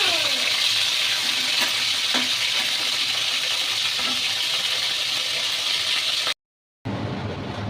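Fish frying in hot oil gives a loud, continuous sizzle with a few faint clinks, then cuts to silence for half a second and returns with a different, thinner hiss.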